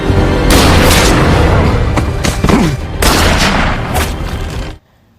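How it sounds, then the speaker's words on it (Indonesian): Sniper rifle shots in a film action scene, a dense barrage of loud booming gunfire with rapid reports and echoing blasts filling the clip before cutting abruptly to silence. "Dengan cekatan, Brandon menembak 2 kali talinya dan pendeta pun terjatuh."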